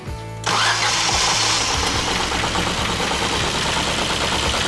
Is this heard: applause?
no